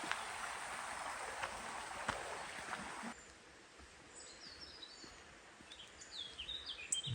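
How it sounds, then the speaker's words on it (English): A small robin sings from up in the trees near a stream, thin high phrases coming in the second half over steady water rush, fairly faint and at a distance. "There's a little robin up there."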